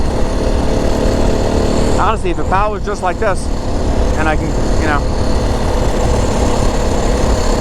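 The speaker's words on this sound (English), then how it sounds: "I can't stand the way the exhaust sounds like that." A 2025 Yamaha WR450F dirt bike with its stock, fully corked-up exhaust runs at a steady, close drone through the whole stretch, while someone talks over it briefly in the middle.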